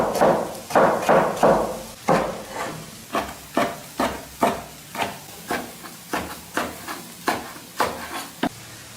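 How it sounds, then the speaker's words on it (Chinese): A knife slices potatoes on a cutting board in a Shaanxi home kitchen: about fourteen crisp, evenly spaced chops in a steady rhythm, close and clear, with no talking. "洋芋切片儿。"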